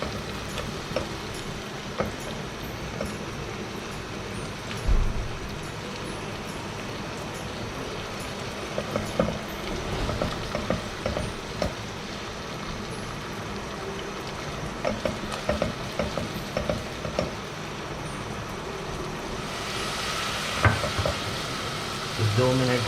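Onion paste frying in a pan for chicken jalfrezi, a steady close sizzle with repeated stirring scrapes and small ticks throughout, louder crackling near the end, no talk.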